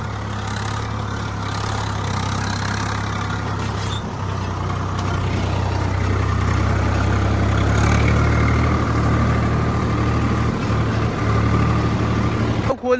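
A tractor engine runs steadily nearby on a farm, a deep, even diesel drone with a brief hiss of air partway through.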